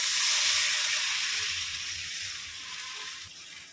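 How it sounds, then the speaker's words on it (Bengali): Water poured into hot spice paste fried in oil for a fish curry, bursting into a loud, close hissing sizzle that slowly fades over a few seconds. "মশলাটা কষানো হয়ে গেছে, তেল ছেড়ে দিয়েছে, এবার আমি জল দিয়ে দেবো।"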